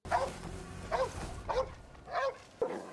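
A dog barks about five times in a steady rhythm, each bark sharp but fairly faint and at a distance, with no speech over it.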